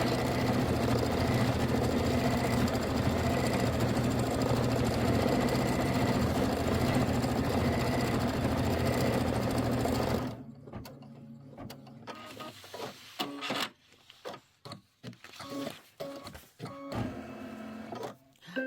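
An embroidery machine stitching a quilt block in a 7x12 hoop, a loud steady mechanical whirring and rapid needle chatter for about ten seconds, then stopping and giving way to quieter irregular clicks and handling sounds.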